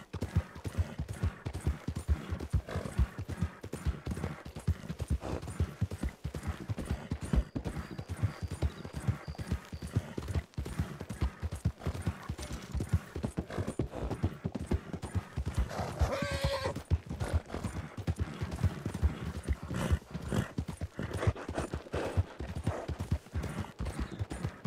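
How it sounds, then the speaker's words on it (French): A nervous horse clip-clops steadily and quickly throughout, hooves close and continuous, with a whinny rising briefly about two-thirds of the way through. "Pourquoi le cheval est nerveux comme ça?"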